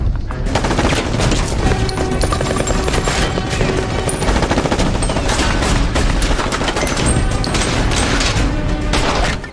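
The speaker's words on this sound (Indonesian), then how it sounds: "anak buah Tony langsung menyerbu tempat persembunyian Charlie dan baku tembak pun tak bisa dihindari." Loud, dense gunfire fills an action-film shootout as gang members storm a hideout, with rapid automatic bursts, overlapping shots and crashing impacts running continuously and nearly unbroken throughout.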